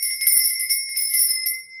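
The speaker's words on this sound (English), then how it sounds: "I'm going to ring this bell." A bell is rung repeatedly to cleanse a space, producing bright, high, sustained metallic tones that shimmer and ring on, loud and close with no speech.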